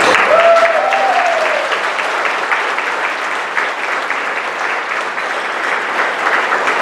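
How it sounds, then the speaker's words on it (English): An audience at a business and employment event breaks into a dense, steady round of applause that carries loudly through the whole stretch, with a brief whistle near the start. "How about a round of applause?"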